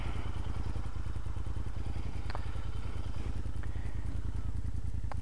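A Royal Enfield Interceptor motorcycle idles steadily up close, its engine ticking over in an even, rapid pulse with light mechanical clatter and a few faint clicks on top, and nobody speaks.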